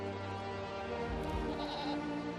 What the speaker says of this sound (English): one of their goats strayed from the herd